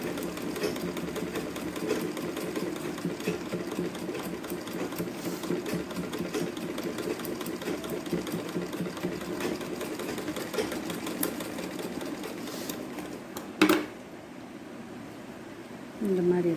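A sewing machine stitching cloth for a traditional pattu pavadai sattai top runs steadily and close for a long stretch, then stops with a sharp click before restarting briefly at the end.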